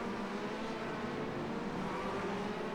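A race car engine in an IMSA racing video game drones steadily through a lap, a continuous dense roar with no talk over it.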